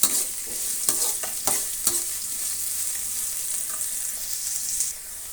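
Onions fry for rice bath in a pan, a continuous hiss of sizzling punctuated by several quick, clattering stirs early on that then settle into steady frying.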